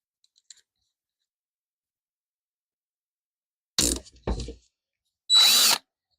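A power drill drives a screw into wood while building a scroll saw stand. After a few faint clicks, two short whirring bursts are followed by a longer, louder burst as the screw strips, with no talk.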